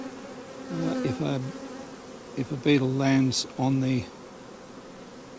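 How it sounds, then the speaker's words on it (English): Honeybees crowd a hive entrance on a platform with holes, their buzzing humming steadily throughout and rising into louder close passes, while a person talks over it. "So many bees trying to get in and out."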